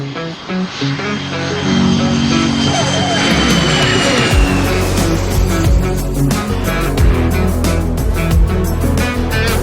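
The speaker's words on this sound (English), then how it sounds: "12 Mike Oscar, runway 27, clear for takeoff." A fixed-wing airplane's engine roars loud and steady during takeoff from a runway, a continuous powerful drone with a rising tone that holds through the whole stretch, close and dominating.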